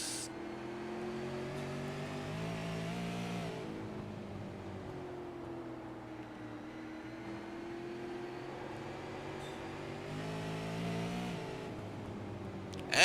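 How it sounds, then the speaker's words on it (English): Race cars circle the South Boston track, their engines a faint, distant drone that swells and eases as they accelerate and lift off, with a few sharper surges as cars pass. "And as you can hear from the engine sounds, there's not a long time that they can have that foot down on the bottom."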